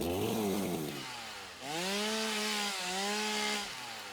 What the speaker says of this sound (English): So we just take out the chainsaw.